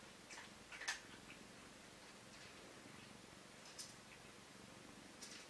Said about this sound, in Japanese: ゴロゴロ言って